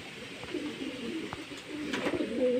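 Pigeons coo softly inside a loft during rainy weather, a low murmuring of several birds with faint background noise and a few brief higher chirps.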